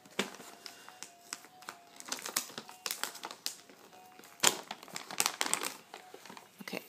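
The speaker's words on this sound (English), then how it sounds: "let me take the tape off" Tape is peeled off a wrapped gift bag, giving close crinkly crackles and paper rustles in irregular bursts, with a few sharper rips.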